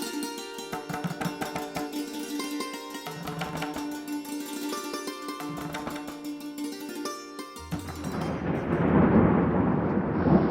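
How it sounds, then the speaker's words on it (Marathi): Heavy, incessant monsoon rain pours down with thunder over a remote hillside village in Maharashtra, a dense roaring wash that swells in loudly after a stretch of music. "आभाळ फाटल्यासारखा पडणारा संततधार पाऊस"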